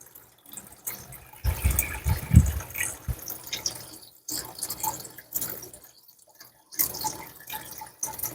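An 8-watt submersible aquarium pump pushes a stream of water in a flowerhorn tank, splashing and trickling in uneven bursts with brief quiet gaps, close and moderately loud.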